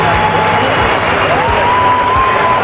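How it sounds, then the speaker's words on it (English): Football stadium crowd roaring and applauding as the Real Madrid team walks onto the pitch, a dense, loud, continuous wall of cheering and whistles with horn-like tones rising over it. "The Real Madrid team walked onto the pitch and the crowd went wild."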